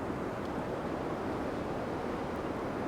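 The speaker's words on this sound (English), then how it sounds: "And those white waves against the dark blue." Ocean waves break against rocks on the Oregon coast, making a continuous broadband roar of surf mixed with wind buffeting the microphone, steady and fairly loud throughout.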